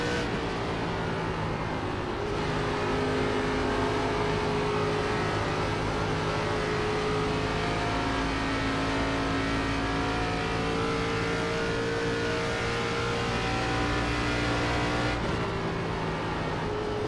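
An ARCA Legacy race car in iRacing holds full throttle around Charlotte, a continuous loud engine drone with steady pitched tones that step up and down as the revs shift; no voices.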